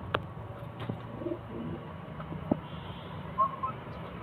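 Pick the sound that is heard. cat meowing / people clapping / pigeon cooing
pigeon cooing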